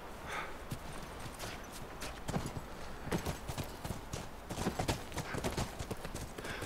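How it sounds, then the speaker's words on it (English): Horse hooves clip-clop steadily in The Last of Us video game, a moderately loud, evenly paced walking rhythm with faint background ambience. "Back to the horses."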